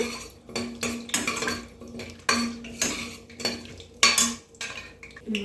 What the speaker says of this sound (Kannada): ಒಂದು ನಿಮಿಷ ಇದನ್ನು ಫ್ರೈ ಮಾಡ್ಕೊಳ್ಳೋಣ